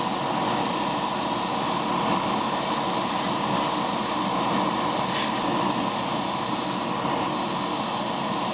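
Pink surfacer sprays onto a 1/20 Fujimi Ferrari 641/2 Formula 1 scale model as a continuous soft hiss, with faint pulses as the spray is worked across the body.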